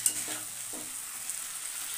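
Food fries in a pan for chilli chicken and pakora, a soft continuous sizzle broken by a couple of quick stirring scrapes, quiet and close with no voices.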